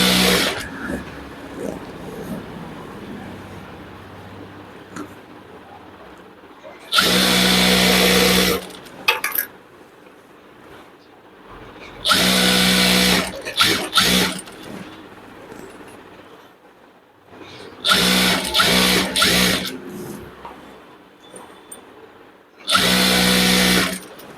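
Sewing machine stitching the hem of a petticoat in a tailoring class, four loud bursts of rapid whirring stitches of a few seconds each, separated by quieter stretches of room sound.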